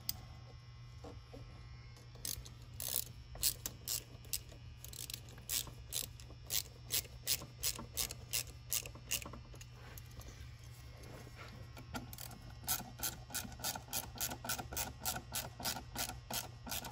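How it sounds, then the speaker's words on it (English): Band clamps being tightened on a Tapout Tuning carbon fiber cold air intake and catch can line, heard as rapid ratcheting clicks in repeated bursts over a low steady hum, close by and with no talking. "And then you can tighten up those band clamps."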